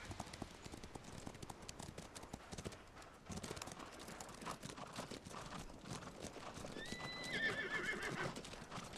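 Rhythmic hoofbeats clatter steadily, and near the end a horse lets out a clear whinny over the trotting, during a cavalry drill in the video game War of Rights.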